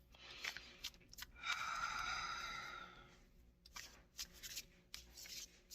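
A deck of cards is shuffled for a card reading: soft, quiet riffling and rubbing bursts, including one longer riffle in the middle, with no talking.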